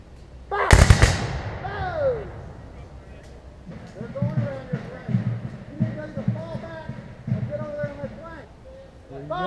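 A volley of black-powder muskets from a company of Civil War reenactors at a battle reenactment, one sharp booming blast with a short rumbling echo, followed by shouting voices and scattered outdoor noise.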